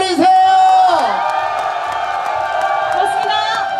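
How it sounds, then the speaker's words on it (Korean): A festival concert crowd at the 21st Mungyeong Omija Festival claps, whoops and cheers loudly, with voices and a microphone tone over the dense applause throughout. "큰 박수 한번 더 보내주세요"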